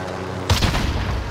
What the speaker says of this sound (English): Bro, I just shot the heli with a combat bow